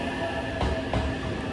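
A Kyoto-bound limited express train pulls into a station platform, its steady rumble and rolling rail noise close by, with a couple of brief clunks from the wheels in the short moment captured.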